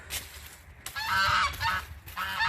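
Several geese honk loudly in repeated bursts, close by, with brief gaps between the calls and no talking.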